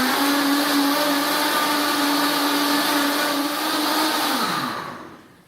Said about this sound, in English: Put that into your trusted vitamix and here we go.